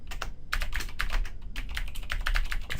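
Rapid keystrokes on a computer keyboard as a name is typed into a database program, close and steady in irregular bursts with short pauses, no voices.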